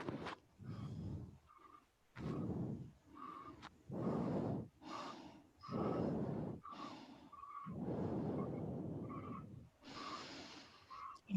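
Slow, deep nasal breathing during a yoga session: long inhales and exhales follow one another evenly, close to the microphone, with soft snort-like rushes of air and no talking.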